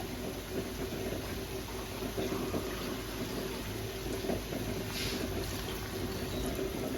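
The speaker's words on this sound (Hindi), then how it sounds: "मैंने 1 गिलास इसमें पानी ऐड कर दिया।" A glass of water is poured into a pot of chicken karahi seasoned with black cardamom, green cardamom and cinnamon, giving a steady, unbroken hissing wash of liquid with no talking.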